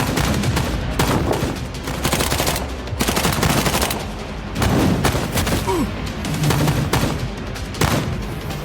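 Sustained rapid gunfire sprays at a woman in an action scene, dense overlapping bursts of shots rolling on for several seconds with barely a pause.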